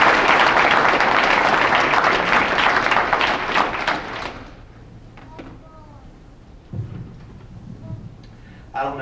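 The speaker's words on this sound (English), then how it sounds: "Let's give another round of applause," Dense applause fills a banquet hall at an anniversary awards dinner for about four seconds, then fades out. Afterward a few scattered sounds and some quiet talk follow in the room.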